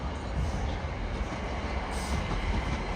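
A Gatwick Express class 387 electric train passing at Clapham Junction, a loud, steady broadband roar of wheels and rails filling the whole span, close to the track.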